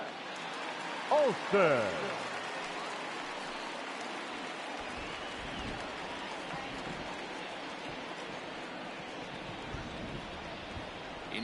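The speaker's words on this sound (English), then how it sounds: "the rain starting to intensify here. It's coming down a little heavier now." Rain pours over a baseball stadium in the MLB The Show 20 game, a steady broadband hiss that continues throughout. A commentator speaks briefly at the start.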